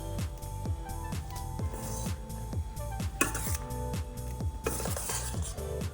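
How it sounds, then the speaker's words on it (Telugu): A metal spoon stirs lemon juice through cooked rice in a pan for temple-style lemon rice, scraping and clinking against the metal in a steady, regular rhythm of strokes with no voices. "రైస్ లెమన్ జ్యూస్ వేసినాను కదా, మిక్స్ వేసుకుందాం బాగా."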